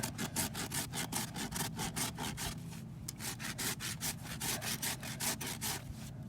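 A horse's hoof is rasped to bevel the toe: steady, rhythmic back-and-forth scraping strokes, close and even, repeating about three times per second with no talk.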